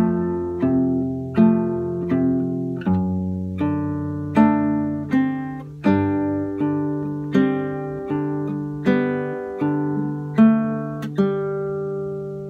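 An acoustic guitar picks a phrase from the introduction of a song, steady plucked notes on the upper strings ringing over open strings, close and alone with no talking.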